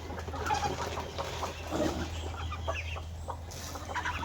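Farm fowl, ducks in rural Mindanao, clucking and calling in bursts close by, layered over a steady low hum and outdoor background noise, with no talk.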